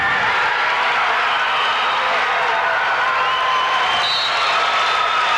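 Distant crowd cheering and applause from a high school Division 3 wrestling final, a steady roar of voices running through the whole stretch with no clear breaks.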